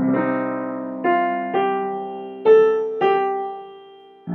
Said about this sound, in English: If you play Green Sleeves in the Dorian mode, it sounds like this.